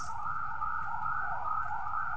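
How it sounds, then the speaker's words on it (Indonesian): An ambulance siren wails steadily near a tourist dairy farm in Lembang, Bandung, its two-tone sweep sounding continuously and fairly loud with no talk over it. "Ada suara ambulans."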